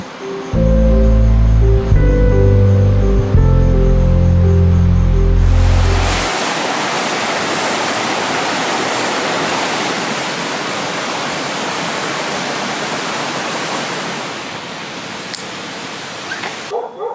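A steady rushing wash of night rain and a flowing stream beside a tent in Pang Hai, Chiang Mai, fills the scene after a few seconds of low tonal sound at the start.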